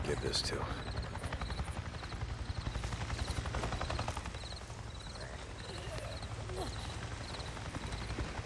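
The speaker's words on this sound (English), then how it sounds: "I just saw a goddamn chopper." Helicopter rotors chop steadily in the video game Days Gone, a continuous thudding drone with a rattling rhythm that stays fairly consistent throughout, with game sounds mixed in.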